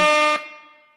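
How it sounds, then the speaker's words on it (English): A single loud air horn blast, bright and brassy, sounded as a sound effect on a sports fan livestream, cutting off abruptly and leaving a ringing tail that fades. "Is the air horns working?"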